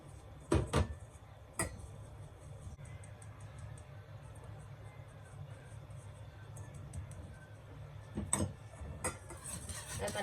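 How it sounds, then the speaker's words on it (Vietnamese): A whisk clinks against a bowl while flour is mixed into eggs for sponge cake batter, giving a few sharp, close taps over a quiet, soft stirring background. "rồi mình trộn lên hết tất cả cái trứng với lại bột này cho nó mịn lại"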